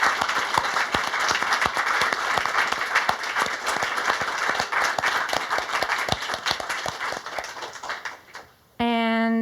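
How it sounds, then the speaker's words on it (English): Sustained audience applause at a spoken word performance, dense steady clapping for about eight seconds that fades out before a voice begins speaking. "if we can have a round of applause for Lady Revolutionary, Meilani Clay, Landon"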